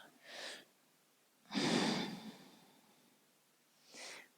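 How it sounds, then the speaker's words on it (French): Ujjayi yogic breathing: slow, quiet, airy breaths with a soft throaty hiss, three separate breaths with a longer, fuller one in the middle, heard alone. "On essaye ici d'engager Ujjayi, donc cette respiration yogi"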